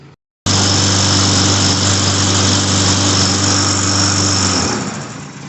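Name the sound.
Poulan Pro Briggs & Stratton 550EX lawn mower engine starting and running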